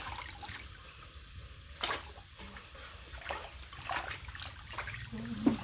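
Fish being rinsed in water while making Thai-style fermented fish, with splashing, trickling and sloshing bursts close by, heard alone without speech.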